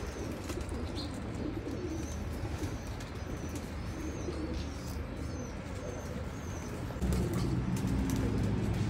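Dabwala (Teddy) pigeons in a loft in Oman coo softly and steadily with occasional chirps, under a constant low background hum that swells near the end.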